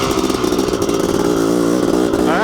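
Honda CR500 two-stroke motorcycle engine on a single-track enduro trail, revving loud and close with a steady buzzing drone and a brief rise in pitch near the end.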